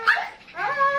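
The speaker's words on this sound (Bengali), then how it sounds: "আমাদের এই যে ডগ" A small Lhasa dog at a dog house whimpers and yips in quick high-pitched cries, close and fairly loud, with a rising whine at the end.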